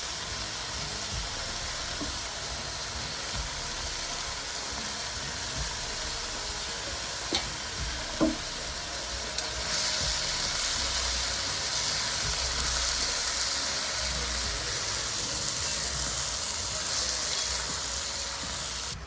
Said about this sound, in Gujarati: આપણે ડુંગળીને હજી થોડી વાર માટે ચડવા દઈશું